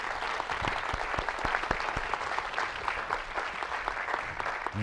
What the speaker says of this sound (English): I want applause for these people in orange shirt.